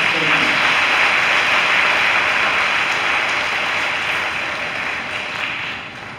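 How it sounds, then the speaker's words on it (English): A church audience applauds steadily at an event honouring a minister, a dense sustained wash of clapping that fades slightly toward the end. "give him a round of applause"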